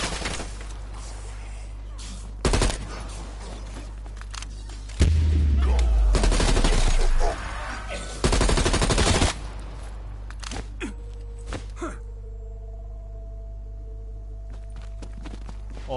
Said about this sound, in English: Why is he shooting, man?